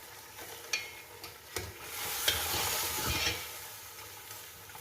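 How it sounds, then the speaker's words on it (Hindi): Beef korma meat being stirred with salt in a pot, a steady sizzle broken by a few sharp spoon scrapes and clanks against the metal, close and moderately loud with no talking. "अब इसको हम दोबारा से मिक्स कर देंगे अच्छी तरह से।"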